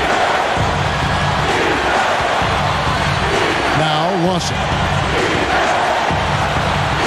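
Tense crowd noise fills a basketball arena during an NBA game between the Nuggets and Nets, a steady dense roar throughout, with a commentator talking over it and a brief whistle-like tone midway.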